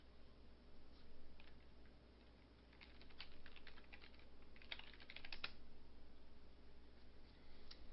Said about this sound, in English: I'm going to type in my map.